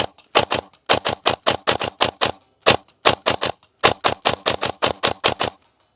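A Silverback MDR-X airsoft AEG rifle fires in rapid bursts of sharp mechanical clacks from the gearbox, several strings of shots broken by brief pauses, close and loud with no talking.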